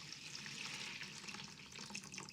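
Warm water, about 1.5 litres, pours steadily into a container for cleaning blades, a soft continuous splashing trickle heard close and quiet.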